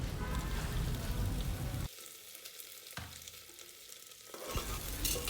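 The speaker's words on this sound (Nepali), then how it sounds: "अब आलुलाई पनि एकछिन फ्राई गर्ने अनि 1 मिनेट जति यसलाई छोपेर पकाउनु पर्छ" Cut potatoes fry in a pan for a peas curry, giving a steady quiet sizzle. It thins out twice, then comes back, with no voices.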